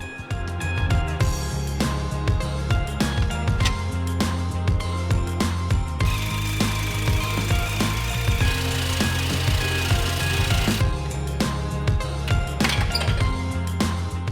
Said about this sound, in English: Al folds up a piece of sheet metal to support the airbox and washer bottle